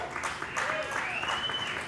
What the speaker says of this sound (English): Americans, round of applause.